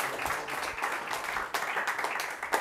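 A church congregation cheers and applauds for God, dense sustained clapping mixed with shouts from a large crowd, loud and continuous throughout.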